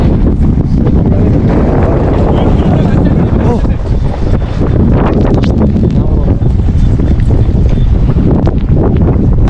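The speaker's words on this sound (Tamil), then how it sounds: "சரியான காற்று" Strong wind buffets the microphone at a motocross track, making a constant loud roar with gusty fluctuations that fills the whole stretch and drowns out any other sounds.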